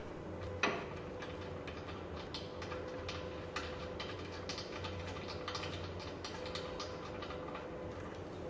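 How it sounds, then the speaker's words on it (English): Bolts being worked loose from the middle support of an NOV Mono progressive cavity pump during maintenance, a steady stream of small metallic ratcheting clicks over a constant mechanical background, with one sharper knock near the start. "Two bolts connecting the middle support are then removed."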